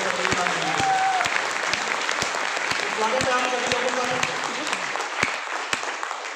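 Loud audience applause at an RCM business seminar, a dense, steady roar of clapping with sharp individual claps standing out, while someone speaks over it.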